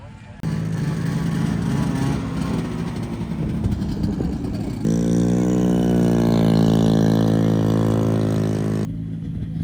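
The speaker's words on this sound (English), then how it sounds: "So the sound of that one Arctic Cat that just went by, Yeah. that's like the typical sound of a Wankel engine." An Arctic Cat snowmobile with a Wankel engine passes close by, a steady loud droning whine whose pitch climbs and holds as it goes past, with voices chatting underneath.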